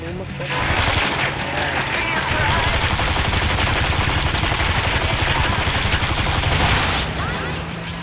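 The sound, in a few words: gunfire in Gangstar 4 video game car chase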